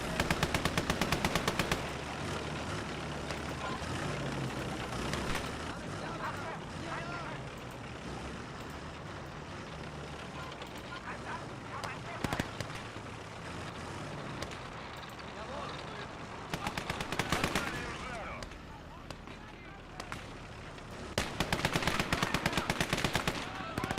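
Heavy machine-gun bursts and artillery explosions rumble through a video-game battle, with dense, sustained gunfire and louder volleys at the start and near the end; a voice speaks faintly beneath the din.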